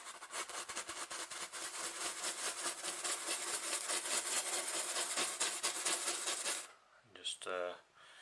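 A brush scrubs green and black oil paint onto a cottage painting in a steady run of close, dry rubbing strokes, then falls away near the end.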